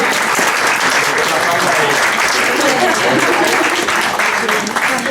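Audience at a Spanish conference opening on the date palm in Islamic al-Andalus breaks into loud, sustained applause, dense even clapping filling the room without pause.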